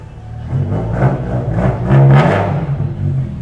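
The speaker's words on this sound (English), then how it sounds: "the V10 sounds ridiculous" A BMW V10 engine revs at a crowded BMW car show, a deep throaty roar swelling and falling in a few bursts, fairly close and loud over a busy background.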